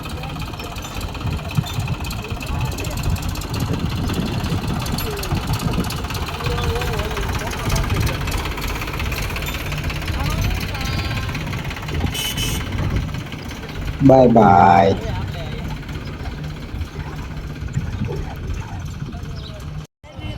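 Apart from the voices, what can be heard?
tractor engine idling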